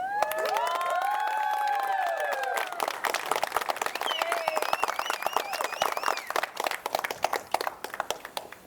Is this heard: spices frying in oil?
no